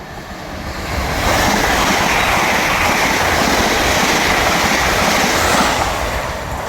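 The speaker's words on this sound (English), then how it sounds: "Fast train approaching." A fast Scotrail train on the Edinburgh–Glasgow line rushes through Edinburgh Gateway station, a loud broad roar swelling in after a second and holding steady before easing off at the end.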